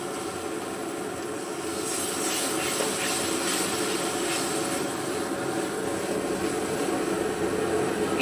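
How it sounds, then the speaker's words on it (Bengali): Water poured into a hot frying spice mixture for a potato and cauliflower duck-egg curry sets off a strong, steady hiss of sizzling steam that stays loud and even throughout, close up with no talking. "এবারে সামান্য পরিমাণে কিছুটা জল দিয়ে দেবো।"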